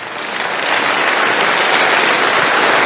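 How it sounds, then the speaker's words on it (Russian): A room full of audience members breaks into steady, dense applause during a business seminar on strategy, swelling slightly after the start and holding loud and even throughout, with no talk over it. "Тогда хлопайте себе хоть разу."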